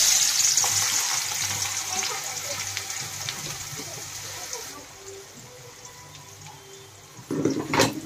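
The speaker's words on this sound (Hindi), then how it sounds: "अब ये प्याज को मैंने पीस लिया। अब मैं इसको फ्राई करती हूँ।" Ground onion paste fries in a pan for chicken dum biryani, giving a steady sizzling hiss that softens midway, with a brief clatter at the end.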